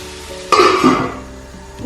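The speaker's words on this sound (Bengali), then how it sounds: "সবজিগুলো এখানে ফ্রাই হতে হতে" Mixed vegetables with beans tossed into a hot wok, a sudden loud sizzle and stirring scrape that swells and then slowly fades, close and clear with no talk.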